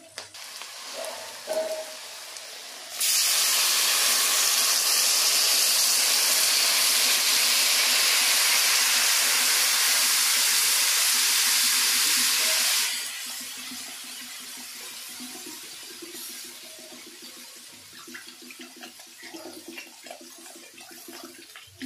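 Water poured into a pan of chillies already fried red, setting off a loud, steady hiss of sizzling and steam that lasts about ten seconds before dying down to softer crackling.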